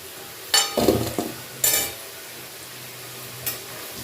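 Golden fried potatoes for aloor dum being lifted out of a pan of oil, with a cluster of close scraping clinks and clatters of a utensil over a soft sizzle, then quieter frying and one last light knock.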